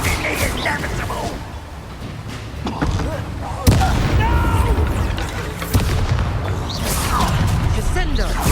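Bombarda explosion spell cast in the Hogwarts Legacy video game, with sharp booming blasts near four and six seconds over game voices and effects.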